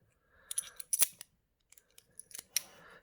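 Old Australian silver coins handled together, giving several faint, bright metallic clinks and chinks in scattered bursts, close by and quiet, with no voices.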